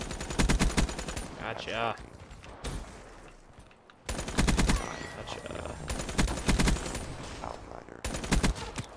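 Rapid automatic gunfire in a Call of Duty: Black Ops III team deathmatch on the map Fringe, loud close bursts broken by short pauses, with a player talking over the shooting.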